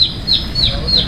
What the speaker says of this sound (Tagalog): Andiyan na naman yung ibon eh.